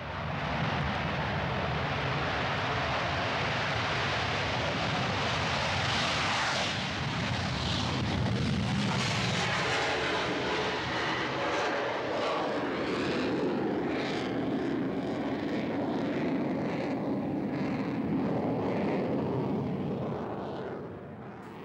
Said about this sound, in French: Le MiG-29 en configuration de combat décolle en 240 mètres.